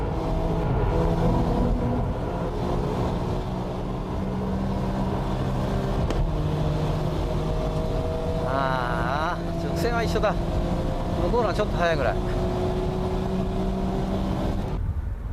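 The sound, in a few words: Porsche 996 Turbo and Nissan Nismo racing on track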